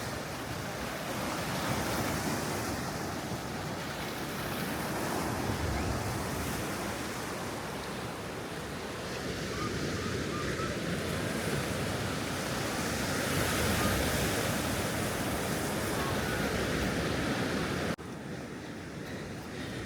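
Ocean waves break steadily on a beach at Paguera, Mallorca, with surfers out, making a continuous loud roaring wash with gusts of wind noise and no voices.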